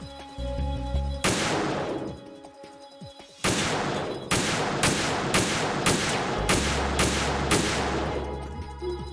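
Gunfire in Metal Gear Solid 2, loud and close. One shot rings out, a short lull follows, then a run of about eight evenly spaced heavy reports over low droning game music, with no talking.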